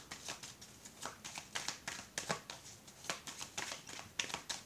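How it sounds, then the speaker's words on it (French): Tarot cards being handled and shuffled close up, a quick series of soft papery flicks and slaps in an irregular rhythm, fairly quiet, with no talking over them. "On va recouvrir toutes les cartes."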